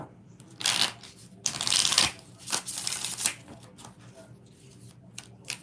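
A deck of tarot cards is shuffled by hand in several quick riffling bursts up close, with short pauses between them and no talking.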